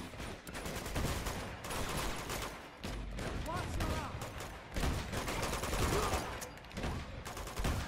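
Near-constant gunfire rattles through a firefight in the action game Uncharted 2, dense bursts of automatic and single shots overlapping for several seconds with hardly a pause.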